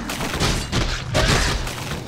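Trees being smashed apart in the Warcraft 3 Night Elves campaign, heard as a quick series of heavy booming crashes and thuds, loud and dense over a couple of seconds.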